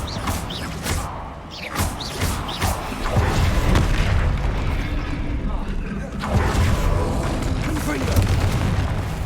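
A Confringo spell explosion in Hogwarts Legacy bursts with heavy booming impacts amid chaotic combat noise and rumble, loud and dense, with a voice speaking during the fight.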